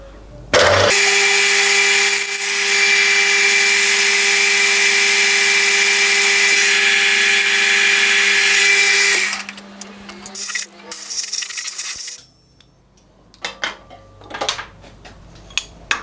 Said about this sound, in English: I've still got to drill right through 2 of the fins.